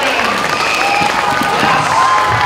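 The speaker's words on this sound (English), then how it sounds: "One big round of applause, my friends." Audience applause at an elementary school book-reveal assembly, a dense, steady clatter of clapping filling the whole stretch with some crowd voices mixed in.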